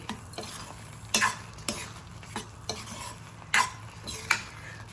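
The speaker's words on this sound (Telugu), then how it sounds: "ఉప్మాని ఇలా మనం కలుపుతుంటే" Upma made from semolina being stirred in a kadai, a spoon scraping and knocking the pan in soft, uneven strokes with a few sharper clinks, close by and steady, with no talking.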